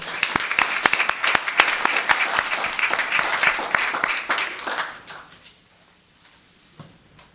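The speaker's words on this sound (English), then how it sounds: "Please give a round of applause for Will Harland." Applause for Will Harland at the Los Gatos town council meeting: a burst of close, loud, dense clapping lasting about five seconds, then fading quickly into near silence.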